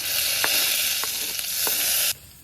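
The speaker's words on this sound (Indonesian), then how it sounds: "Setelah itu kita panaskan minyaknya, lalu tumis bawang putihnya." Thinly sliced garlic sautés in heated oil, a loud, steady close sizzle with a few soft stirring taps, cutting off abruptly near the end; no speech.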